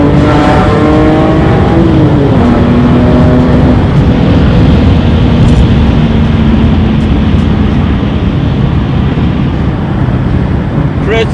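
A BMW M3 engine revs hard, its pitch dropping after a downshift, then drones steadily under heavy wind rush.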